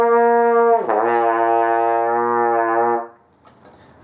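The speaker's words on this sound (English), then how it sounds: "However, on flugelhorn, the note comes right out." A flugelhorn sustains one loud, steady note and then drops into the very low pedal C. The deep tone holds for about two seconds and then stops, with no voice over it.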